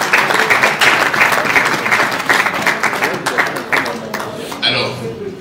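An audience at an award ceremony applauds loudly and steadily, a dense wash of claps holding for several seconds before thinning out near the end.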